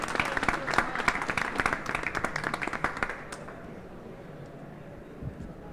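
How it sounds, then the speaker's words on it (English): Audience applause at a clean energy climate action event, dense clapping for about three seconds, then quickly fading into quiet room tone. "how about a round of applause for Joe Biden?"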